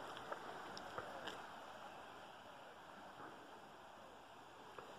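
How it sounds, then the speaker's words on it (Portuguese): Rio dos Bois river water flowing in a natural setting: a steady, faint broadband rush with occasional small splashes and clicks, continuous and alone. "Escuta só, pessoal, o barulho das águas."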